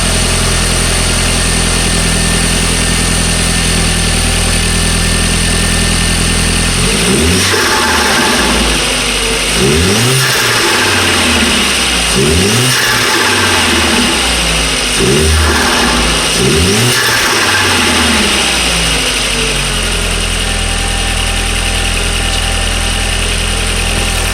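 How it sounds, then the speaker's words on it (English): An Audi A4 1.8T turbo engine with a cold air intake idles steadily, then revs up sharply several times in a row, each throttle blip rising and falling back, loud and close with no talking. "this is how it's going to sound. I'm going to hit the gas a couple times."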